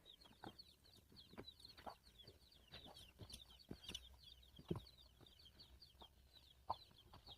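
A mother hen clucks softly among her chicks as they are put into a new coop scattered with rice, with faint high peeping in the background and a few sharper clucks standing out in an otherwise quiet scene.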